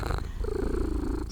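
A small shelter cat purrs close up in a short, loud, continuous rumbling burst with a soft rhythmic pulse.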